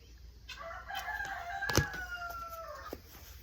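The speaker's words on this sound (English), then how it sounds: "You hear the chickens?" A rooster crows nearby, one long rising-and-falling cock-a-doodle-doo standing out clearly over faint background noise and a few other soft bird sounds.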